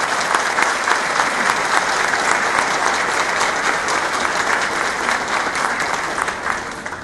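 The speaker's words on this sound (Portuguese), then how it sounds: "despedimos-nos de seus integrantes com uma nova salva de palmas." Sustained, dense applause from a large audience at the opening session of a rural congress in Garça, steady and close for the full length, with scattered voices mixed in and a slight fade near the end.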